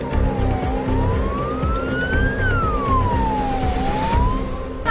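An ambulance siren wails loud and close near Jantar Mantar in Delhi, its pitch sweeping slowly up and down in long continuous cycles over traffic rumble, with no talking.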